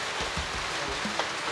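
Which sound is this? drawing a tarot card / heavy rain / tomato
heavy rain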